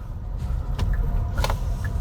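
Inside a 2023 Genesis GV60 electric car on the move: a steady low road rumble and soft cabin hum with a couple of faint clicks, quiet and smooth.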